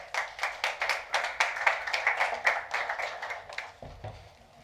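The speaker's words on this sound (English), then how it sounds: "Round of applause." A round of hand clapping from a crowd at a startup pitch event, steady and fairly close, fading out toward the end.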